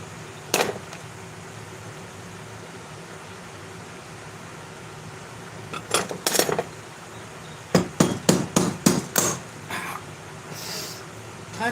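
Hammer blows set a rivet in leatherwork: a single sharp strike, then a short pair of hits, then a quick run of about six firm taps over a low background hiss.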